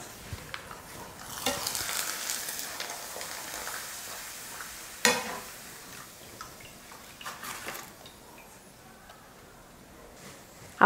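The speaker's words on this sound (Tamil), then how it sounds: "வடை போடுறதுக்கு முன்னாடி அப்பளத்தையும் பொரிச்சு எடுத்துக்கலாம்." Appalam (papad) fries in hot oil as part of a Diwali vegetarian lunch, giving a soft, fairly quiet bubbling sizzle. A few clacks and scrapes of utensils sound close by.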